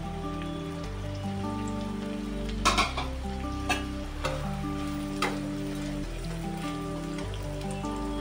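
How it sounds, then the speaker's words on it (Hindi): Chopped onion fries in a pan with a continuous sizzle, and a few louder pops and spatters break through. Steady background music plays underneath. "अब इसमें हमने चॉप किया हुआ प्याज को फ्राई कर लेंगे"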